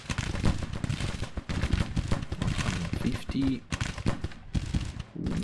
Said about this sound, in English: it's just the Lawrence rifles